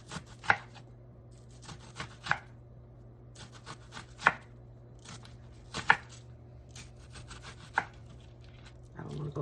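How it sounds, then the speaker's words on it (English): A knife cuts a purple onion on a board, with crisp knocks against the wood every second or two between softer slicing rubs, close and quiet over a faint steady hum. "I didn't know it was a proper way to cut an onion, especially a purple onion"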